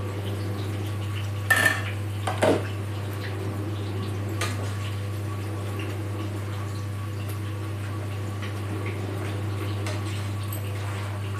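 A cooking pot lid is handled on a stove, giving a couple of brief metallic clanks early on over a steady low hum and faint background kitchen noise.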